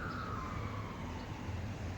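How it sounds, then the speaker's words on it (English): An emergency vehicle siren wails outside, a steady sliding tone over low traffic rumble, fairly distant and continuous with no talking. "Here comes the sirens, guys."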